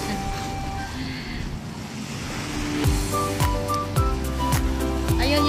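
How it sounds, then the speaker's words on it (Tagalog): Waves washing onto the beach at Marina South Pier, Singapore, a steady surf rush with wind, later joined by repeated sharp tonal blips and ticks from nearby activity. "ang linis ng dagat nila dito sa Singapore guys. Oh, yan ang kanilang dalampasigan"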